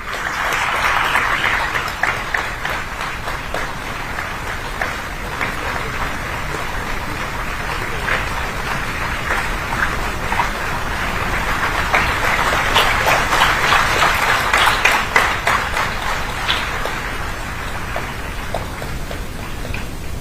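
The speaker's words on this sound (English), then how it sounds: "Let's keep the applause going." Sustained crowd applause at a university's international higher education fair inauguration, loud and dense, swelling toward the end before easing slightly, with no talk over it.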